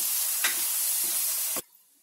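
Ginger-garlic paste stirred into onions frying in a pan gives a steady close sizzling hiss with a few soft spoon scrapes, then cuts off abruptly near the end.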